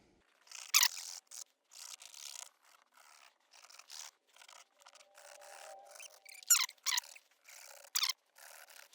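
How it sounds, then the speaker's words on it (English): A hand scrubs hard across a leather car seat, making faint, close squeaks and rubbing strokes in short, irregular bursts separated by brief pauses. "I am rubbing it pretty hard here to try to get any contaminants up and out of the leather"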